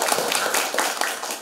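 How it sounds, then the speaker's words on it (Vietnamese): A church congregation claps at a thanksgiving Mass for a newly ordained priest, with brisk, dense applause that stays steady and fairly close throughout a short burst. "cộng đoàn chúng ta được một tràng pháo tay thật lớn để chúc mừng cho tân"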